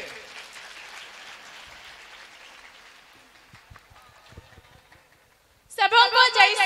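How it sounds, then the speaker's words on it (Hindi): Loud audience applause breaks out suddenly at the end at a youth meet, a short dense burst of clapping after quiet talking. "जोरदार ताली इसके लिए"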